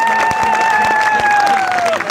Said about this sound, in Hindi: और जोरदार तालियां, इसमें से काम नहीं चलेगा, और जोरदार तालियां